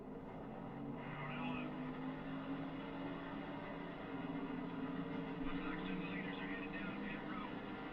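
Race car engines roar around a track in the NASCAR Thunder 2003 video game, a steady, dense multi-car drone with sustained harmonic whine that swells slightly, with a faint tire squeal near the start.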